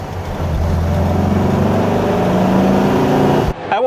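A Volkswagen Beetle engine runs at full throttle from inside the car, a loud, steady droning roar with a rising pitch. It cuts off abruptly near the end.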